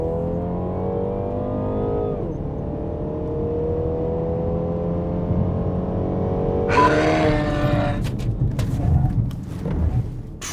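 A MINI Countryman Cooper S Shadow Edition drives a moose test manoeuvre on an airfield: a steady, fairly loud engine drone dips briefly, then holds before harsher broadband noise, likely tyre scrub, builds over the second half. No one speaks.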